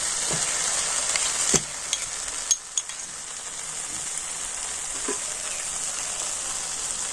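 Spice paste fries in oil with a constant bright sizzle, broken by a few scrapes and taps of a spoon against the pan as cashew and poppy seed paste is added and stirred in.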